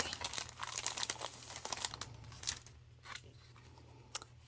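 A plastic bag holding a quilt kit, sealed with washi tape, is opened with close, soft crinkling and rustling of plastic, busy at first and then easing into a few scattered crackles.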